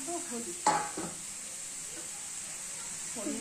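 Papaya pieces with turmeric sizzle softly in a frying pan, a steady hiss with a sharp spoon scrape near the start and a few faint stirring sounds.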